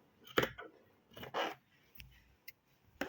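Scissors cutting fabric for a beret, with a few quiet, close snips and rasping slides spread across a few seconds, along with faint handling noises.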